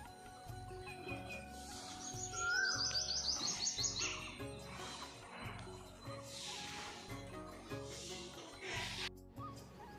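A pet bird named Strawberry, out of its cage, gives bright, quick chirps and tweets in several short bursts over a quiet room hum.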